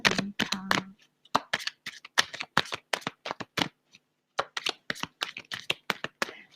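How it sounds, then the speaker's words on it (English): Tarot cards being shuffled by hand in a quick run of sharp riffling bursts with brief pauses between them, close and clear with no talking. "Oh, my perfect shuffling,"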